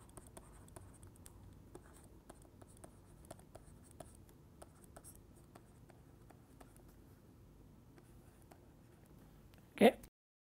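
Chalk or marker strokes on a lecture board as a Gaussian distribution is written out, steady faint scratching with a soft voice underneath, ending in one sharp knock.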